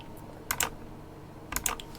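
A computer keyboard is tapped in two quick bursts of a few keystrokes each, close and crisp with quiet gaps between and no voices.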